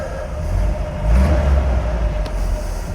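A Jeep CJ5 engine idling and revving on a mountain backroad, a low steady mid-range rumble with a brief swell in revs near the middle, close and fairly loud.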